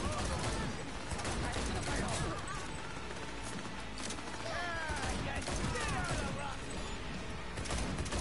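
Gunfire in the Cyberpunk video game, repeated shots and crashing impacts mixed with speech and other game noise throughout.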